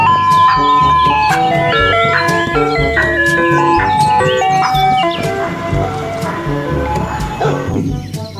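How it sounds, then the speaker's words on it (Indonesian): A toy ice cream truck plays its jingle, a bright, steady electronic melody that runs for about eight seconds. It is loud and close, with faint clicks from handling underneath. "Yang ini ada mobil es krim."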